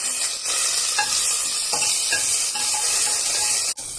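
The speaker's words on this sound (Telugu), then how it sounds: "3 పచ్చిమిర్చి, కొంచెం పుదీనా వేసుకున్నానండి" Cardamom, cinnamon, cloves, star anise, green chillies and mint sizzle in hot oil in a cooker, a loud continuous crackling hiss with occasional stirring scrapes and a brief dip near the end.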